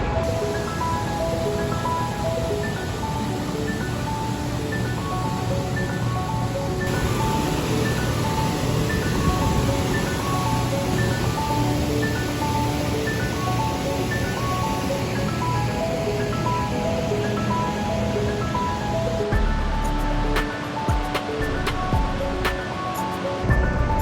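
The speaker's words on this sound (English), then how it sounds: "So this is the third waterfall that I've seen today" A steady, continuous roar of rushing water fills the whole clip, broad and unbroken like a waterfall heard from nearby; a waterfall with a drop of about 100 feet.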